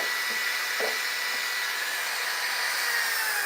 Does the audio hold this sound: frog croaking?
no